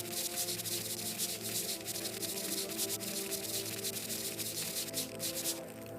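A toothbrush scrubs a gun during cleaning in the Into the Radius game, a continuous dense rubbing and scraping that stays steady and close throughout, with no talking.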